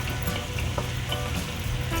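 Onion paste frying in a pan for a fish curry, a steady low sizzle with occasional soft stirring scrapes, close by and fairly quiet, no voices.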